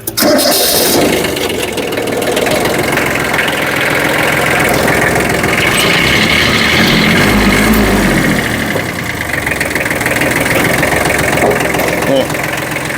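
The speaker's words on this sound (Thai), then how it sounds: "ลองสตาร์ทให้ฟังเสียงสักหน่อย คันนี้เป็น เครื่องยนต์3สูบเลยนะครับ3สูบ16แรงม้า" A Kubota B1600 tractor with a three-cylinder, 16 hp engine cranks and catches almost at once, then settles into a loud, close, steady idle with a rough, knocking rhythm. A voice can be heard near the running engine.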